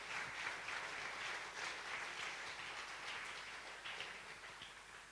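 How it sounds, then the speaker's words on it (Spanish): Faint, sustained applause from a church congregation clapping for Jesus Christ during a sermon, an even wash of clapping that slowly fades toward the end. "en stor applåd till Jesus Kristus"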